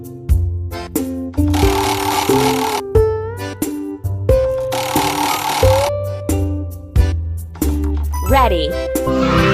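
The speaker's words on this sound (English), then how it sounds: "Now spin the spinner to make threads." A spinner in a children's farm game whirs as it spins colorful threads, with bright chimes, dings and rising sliding tones in quick succession, cheerful and close, under short game voice cues.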